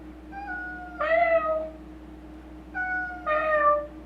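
A cat gives two loud, drawn-out meows a couple of seconds apart, close by over a faint steady hum.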